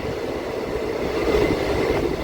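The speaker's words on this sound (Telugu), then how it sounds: "డీజిల్ మెమో ట్రైన్ వెనకాల చూడండి, పొగలు కప్పేస్తుంది" A diesel DEMU train idles at a station in a continuous, loud engine drone with a steady low hum, no voices over it.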